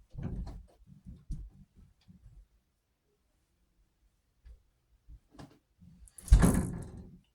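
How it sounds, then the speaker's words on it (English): A door being closed gives a single loud thud near the end, close and brief, after scattered soft knocks and shuffling sounds with quiet gaps between them. "Close the door"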